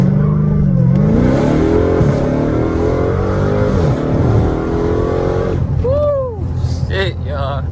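A Dodge Hellcat Redeye Charger roars loudly through a hard 0-60 launch on a track setting, its engine note climbing steadily for several seconds before a sharp tire chirp and squeal near the end.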